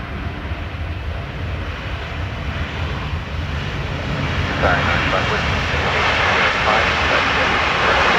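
A Boeing jet on approach to runway 28 left at Dublin Airport gives a steady engine roar that swells gradually louder over the final seconds, with a voice speaking over it.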